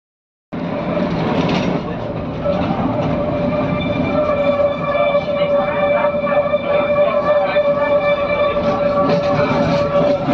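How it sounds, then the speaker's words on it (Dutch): Riding inside a line 8 tram: a steady, loud rolling rumble with a sustained motor whine and faint rhythmic rail clicks throughout. "Lijn 8 trammetje gaat ons vandaag brengen naar de Coachekade."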